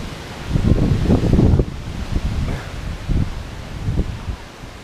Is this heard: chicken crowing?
no